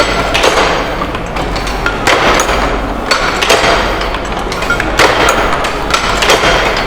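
A letterpress printing machine runs in a Nilkhet print shop, a loud continuous mechanical clatter with heavy rhythmic thumps repeating about once a second, close up.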